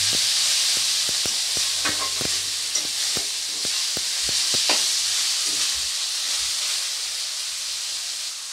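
Onion and tomato sautéing in a pan for a Dhaba-style egg tadka, a steady broadband sizzle with repeated sharp clicks of a spoon stirring against the pan, close and continuous throughout.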